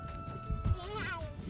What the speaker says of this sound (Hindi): वो देखो बिल्ली कहाँ घुस गई।